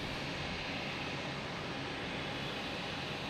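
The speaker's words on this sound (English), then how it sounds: "And they'll have a JetBlue takeoff afterwards." A JetBlue airliner takes off at Boston's Logan Airport, a broad, steady jet roar that holds loud and constant from start to finish with no voices.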